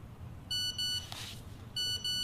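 A new phone gives two short bursts of bright electronic beeping, each made of two quick tones, separated by a brief rustle over a quiet room background.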